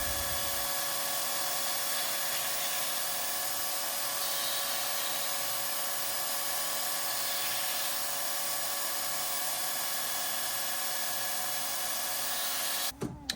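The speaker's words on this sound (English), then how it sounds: "Hey, look, a belt sander. Why don't we employ it?" A belt sander works a lure cut from a silicone spoon, giving a constant high whine over a low mechanical hum for most of the stretch, until a sharp clattering stop near the end.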